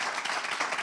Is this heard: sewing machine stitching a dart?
no